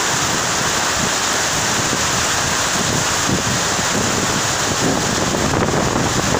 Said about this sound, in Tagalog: Ang lakas na hangin.